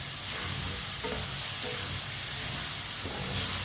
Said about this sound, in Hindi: अब टमाटर को 3 मिनट के लिए पका लेंगे चम्मच चलाते हुए।